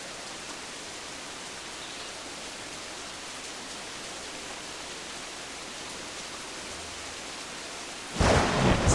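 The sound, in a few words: pouring rain and thunder in Assassin's Creed Black Flag video game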